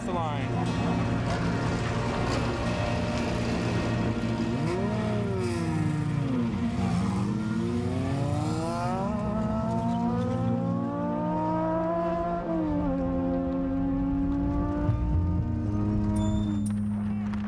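A desert race car leaves the start line at the Nevada 1000, its engine note climbing and sweeping upward in pitch as it accelerates, loud and close over continuous engine drone.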